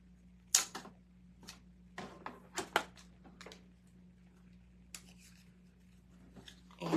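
Scissors cut a paper butterfly to size: scattered crisp snips and paper crackles, close and fairly quiet, some in quick pairs, over a faint low hum.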